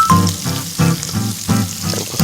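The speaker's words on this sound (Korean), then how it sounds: "이렇게 대파, 베이컨 볶아서 향을 내주시고요" Green onion and bacon stir-frying in a pan with onion for mussel stir-fried udon, a loud close sizzle broken by rhythmic scraping bursts as the ingredients are tossed, with no talking.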